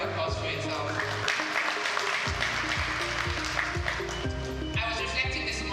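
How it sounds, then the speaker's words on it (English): A conference audience applauds in a loose, continuous patter layered over loud harmonic background music, the clapping running through most of the stretch. "A round of applause for yourself."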